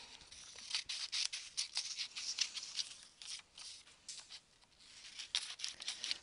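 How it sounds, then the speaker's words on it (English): Scissors cut through a large sheet of paper in quick, close, crisp snips and rustles, with an uneven rhythm and no talking. "And I'm cutting that big page right now, right here."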